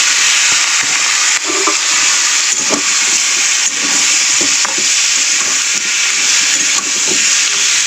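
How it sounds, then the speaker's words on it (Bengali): Prawns frying in hot oil with a little turmeric in a wok, a loud steady sizzle with stirring scrapes and clacks recurring roughly every second, no voices. "দিয়ে চিংড়ি মাছগুলো ভেজে নেব"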